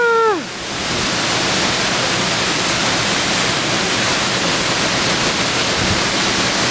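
A powerful, continuous roar of falling water fills the space, loud and close, heard from directly behind Shellburg Falls in Oregon, after a brief whistle-like tone at the very start.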